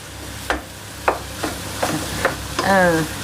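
Partly frozen pork cooking in a pan, with a series of sharp stirring scrapes about every half second over a steady sizzle, close and fairly loud.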